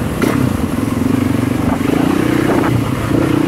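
A Yamaha YZ450 motocross bike, a circuit MX machine, ridden with its engine note rising and falling in a rough, throaty drone, close and loud with slight clatter, no voices over it.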